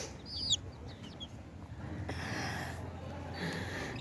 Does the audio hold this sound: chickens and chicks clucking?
yes